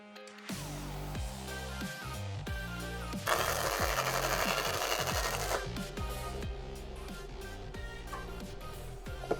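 A SISU welding robot runs a weld, giving a steady mechanical whir with rhythmic stepping motor tones and a loud crackling hiss from the arc for a couple of seconds in the middle, all without talk.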